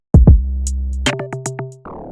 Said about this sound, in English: After that, I added this log drum.